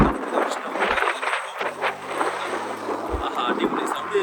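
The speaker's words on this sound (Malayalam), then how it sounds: "അടിപൊളി സൗണ്ട് കേൾക്കുന്നുണ്ടോ കാറ്റിൻ്റെ?" Strong cold wind gusts across a beach at the Scottish border, a steady rushing roar buffeting the microphone with low rumbles throughout, no talking.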